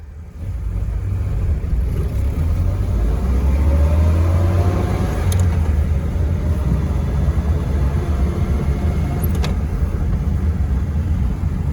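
A modified 1938 Mopar car runs along the road, a steady low engine drone and road rumble heard from inside the cab, with a couple of faint sharp clicks over the continuous hum.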